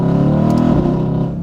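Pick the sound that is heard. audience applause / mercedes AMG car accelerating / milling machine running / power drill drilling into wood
mercedes AMG car accelerating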